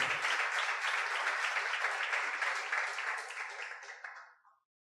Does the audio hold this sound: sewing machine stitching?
no